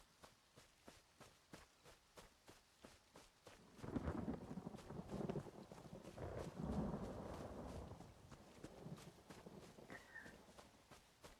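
Rainfall with rumbling thunder in the Elder Scrolls Online game world, a broad wash of rain swelling midway under steady rhythmic footsteps, moderately quiet overall.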